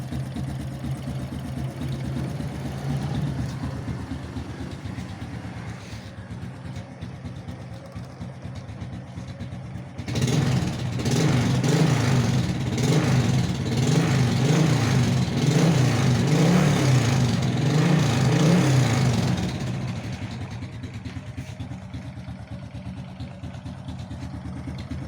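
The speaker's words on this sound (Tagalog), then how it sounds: "Maandar na makina niyan" A Honda Wave 125 motorcycle engine starts and revs steadily for several seconds with a throbbing, pulsing drone, then drops back to a low idle beneath background noise.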